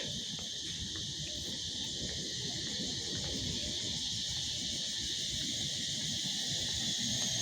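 Crickets chirp in a continuous, even, high-pitched drone in Fort Canning Park, Singapore, heard steadily throughout with no voices.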